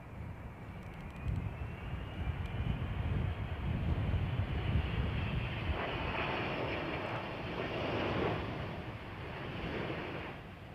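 A fully loaded Emirates airliner lands at London Heathrow with a loud, steady roar of jet engines and rushing air, a long broadband wash that surges again near the end, with no talking.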